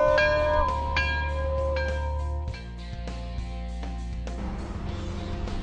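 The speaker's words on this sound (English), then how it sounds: "Somebody ring the bell!" Several bells ring in succession, each strike leaving a long resonant ringing tail, with tones overlapping and fading.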